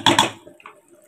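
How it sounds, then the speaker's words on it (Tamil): Drained rice goes into a pot of boiling water with a quick double splash and clatter. A brief, soft bubbling follows. "இப்போ அரிசி சேர்த்துக்கலாம்."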